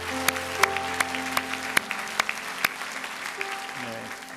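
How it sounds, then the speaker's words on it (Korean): A church congregation claps in unison, steady rhythmic applause with sharp accents, moderately loud, with musical tones sustained underneath. "박수로 하나님을 찬양하겠습니다."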